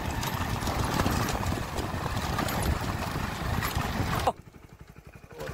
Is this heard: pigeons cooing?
no